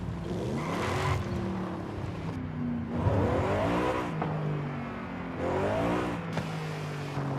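A 2011 Mercedes-Benz SLS AMG with a naturally aspirated V8 and bolt-on upgrades in Forza Horizon 5 revs up hard again and again, a loud, close roar rising through gears with brief drops between pulls.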